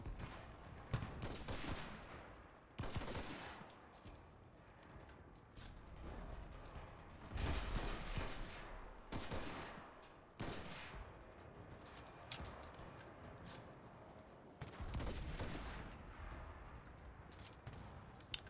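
Many enemies fire in Enlisted, a D-Day battle with repeated bursts of rifle and machine-gun fire in waves, some near and sharp, others more distant, with no talking.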